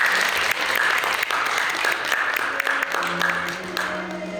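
Applause at a certificate ceremony for Yongin City's Dream-Iroom student reporter program, December 2023; sustained, fairly close clapping from a seated crowd, with a faint tone or voice surfacing near the end.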